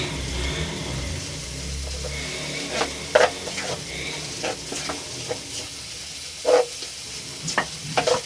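A chicken filling for paratha sizzles softly in a pan as a spoon scrapes and stirs it, with a few sharp clinks of metal against the pan at irregular intervals.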